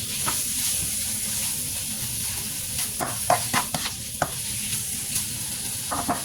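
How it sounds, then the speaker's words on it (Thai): Beef and dried chilies sizzle steadily in a hot pan for Thai basil beef stir-fry, while a spatula clacks sharply against the pan in quick irregular strikes. "คั่วพริกกระทอมนะจ๊ะใส่เนื้อลงไป"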